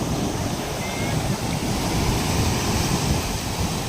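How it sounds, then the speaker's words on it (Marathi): Calm sea waves wash steadily on the Konkan coast, a broad, continuous surf hiss with mild wind, heard from close by on the shore. "कोकणातल्या समुद्रांचे लाटा तो शांत"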